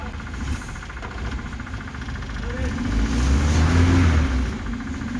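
A car engine, just repaired, rumbles low and then revs louder in the second half, nearby and continuous, with faint voices in the background.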